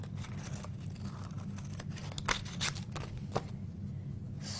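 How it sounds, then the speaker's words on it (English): Scissors snip through embossed paper while a heart shape is cut out along a die-cut line, giving soft, close crisp cuts and crinkles in an irregular rhythm over a steady low background hum. "I'm just going to cut this heart out with some scissors"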